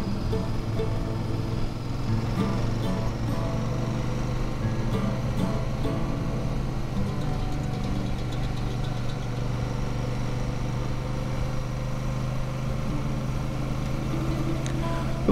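Royal Enfield Super Meteor and Triumph Bonneville T100 parallel-twin engines with 270-degree firing order, running steadily and loud with an even, throbbing low rumble throughout, no talk.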